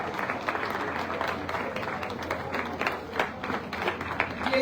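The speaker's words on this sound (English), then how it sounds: "a round of applause to our diamond speaker, Mrs. Ibuku Awoshika." Audience applause at an annual tribal conference, a moderate, somewhat uneven patter of clapping from a modest crowd that rises and dips slightly, with faint voices mixed underneath.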